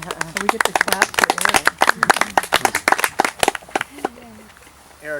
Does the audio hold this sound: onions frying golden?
no